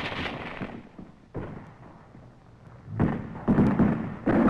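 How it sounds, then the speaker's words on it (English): Gunfire from World War II combat in 1945, with sniper fire and a machine gun set up by troops attacking entrenched positions on a hill: repeated loud broadband bursts and thuds in irregular clusters, heaviest toward the end, with no talk. "Our troops run into some sniper fire and set up a machine gun."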